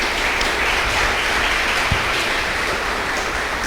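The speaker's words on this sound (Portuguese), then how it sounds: "Pode aplaudir a Deus" A church congregation applauds during a sermon, producing a steady, dense clapping wash that stays even and fairly loud throughout, with one brief low thump partway through.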